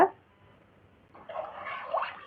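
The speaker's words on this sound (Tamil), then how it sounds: "நாலு லிட்டர் அளவு தண்ணி சேர்த்துக்கோங்க" Water pours into a cooking pot while preparing Ramadan nonbu kanji, about four litres added, a splashing, gurgling rush starting midway after near quiet.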